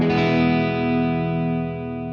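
A Les Paul electric guitar, played through its front pickup with distortion, rings out a single sustained, thick chord that slowly fades.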